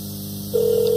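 A steady electronic phone tone starts halfway through and holds, loud and unbroken, over a faint hum.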